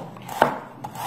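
Two crisp knife strikes on a cutting board, spaced well apart, as shallots and ginger are chopped for a steamed fish dish; close and clear with no talking.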